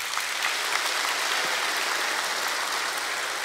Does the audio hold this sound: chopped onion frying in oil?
no